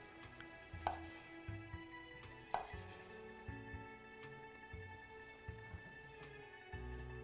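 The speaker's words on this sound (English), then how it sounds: "I'm going to slice some cherry tomatoes on the bias." Knife slicing cherry tomatoes on the bias on a cutting board: a few sharp, distinct chops with quiet pauses between them, close and clear, with low background hum and no talking.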